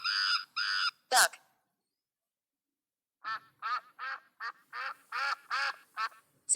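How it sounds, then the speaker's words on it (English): A duck quacks loudly and close, two quick quacks and then, after a short silence, a rapid run of eight or so nasal quacks in uneven bursts. "Duck."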